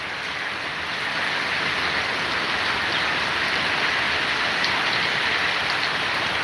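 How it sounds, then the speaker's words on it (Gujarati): Steady monsoon rain falling over village fields, an even wash of dense patter that continues without pause, moderately loud and close. "કુંતપુલની તમામ સીમમાં વરસાદ પડી રહ્યો છે"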